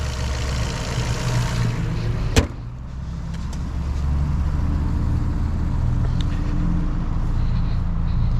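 A car warming up after a fresh oil change and air filter, its engine idling steady and smooth close by, with one sharp thump like a door partway through and no talking.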